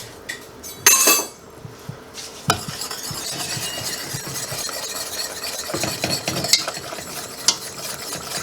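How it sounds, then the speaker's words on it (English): A whisk stirring a mustard mixture in a bowl, a scraping, clinking stir with a sharp knock near the start and then uneven strokes and taps against the bowl, close and fairly quiet, with no one talking. "Let me grab a whisk."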